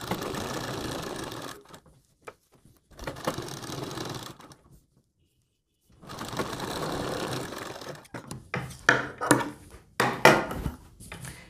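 A sewing machine stitches a kurti neck in several steady whirring runs with short pauses between them, followed by sharper clicks and knocks as the fabric is handled, close and with no talk.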